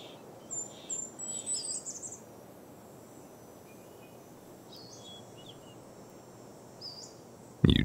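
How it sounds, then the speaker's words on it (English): Scattered high bird chirps and short calls over a steady summer forest hush, faint and distant, with a sharper sound right at the end. "the forest, which is alive with the sounds of birds"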